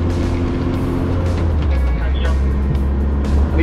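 A green Lotus Elise is driven on the race track at Hethel. Its engine hums steadily and loud at close range, and someone talks throughout over the car noise.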